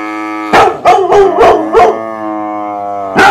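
A cartoon dog barks and howls in a rapid burst of five loud, close yelps followed by a drawn-out howl, with one more bark starting at the end.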